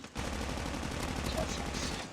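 Dense, rapid bursts of gunfire in Call of Duty Mobile, a continuous rattling barrage that stays loud throughout.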